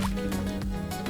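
Water poured from a bucket in Minecraft, a short liquid splash and drip, fairly loud under continuous background game sound.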